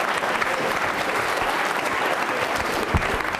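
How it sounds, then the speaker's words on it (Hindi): A large audience at an NCC cadets Independence Day quiz show applauds someone speaker, a loud, dense and sustained roar of clapping that fills the hall without pause. "तालियां जोरों से बजाइए मैम के लिए,"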